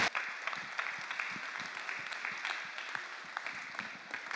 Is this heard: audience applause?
yes